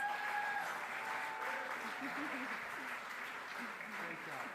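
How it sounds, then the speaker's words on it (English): Dinner guests give a sustained round of applause at a champions' awards dinner in New York, a dense steady wash of clapping with some voices and cheers mixed in throughout. "Please join me in a round of applause."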